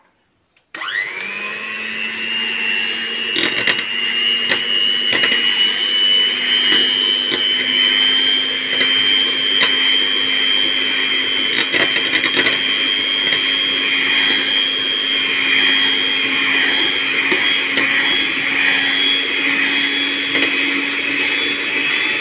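An electric hand mixer whips Chantilly cream, starting abruptly and then running as a steady high-pitched whine for about twenty seconds, loud and close with no talking.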